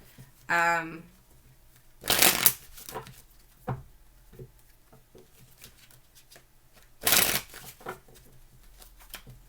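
Tarot cards are shuffled close up in two short, bright bursts several seconds apart. Light card handling and a brief voice fill the gaps.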